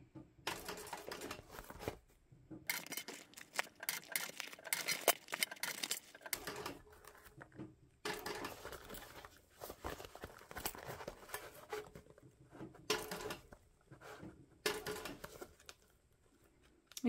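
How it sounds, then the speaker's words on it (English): A sewing machine stitches binding along the edge of a fabric crossbody bag, running in fast, steady mechanical bursts of several seconds each, separated by short pauses as the work is adjusted, close and fairly faint. "so I can just keep on stitching"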